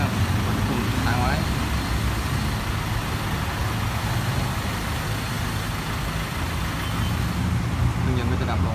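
Ford Ranger engine idling steadily with a low rumble, then shut off by push button, heard close by with a voice talking over it.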